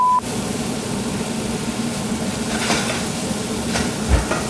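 Shrimp stirred in a pan of hot garlic butter make a dense, steady sizzle with a few scraping knocks from the utensil, loud and continuous, with no talk.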